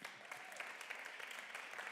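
Applause at a science slam finale, a crowd clapping continuously at moderate volume from a short distance, dense and even throughout.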